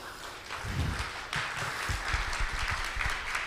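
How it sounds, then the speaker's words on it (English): An audience at a talk on digital finance applauds itself, brisk dense clapping from a group that holds steady throughout the short stretch. "So give a round of applause to yourself."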